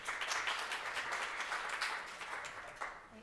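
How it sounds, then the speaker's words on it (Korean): Audience clapping at a foundation's annual report ceremony, a short, faint burst of steady applause from a seated crowd. "큰 박수로 맞이해 주십시오"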